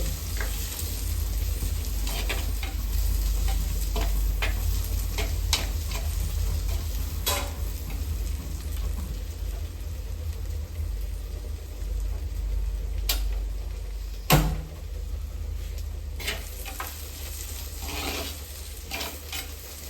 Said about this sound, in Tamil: நல்லபடியாக வதங்கி வரட்டும்